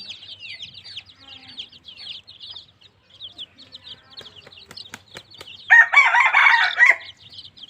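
A rooster crows loudly near the end, preceded by lighter bird chirps, clucking and a few sharp clicks in a quiet yard.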